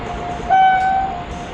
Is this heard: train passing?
yes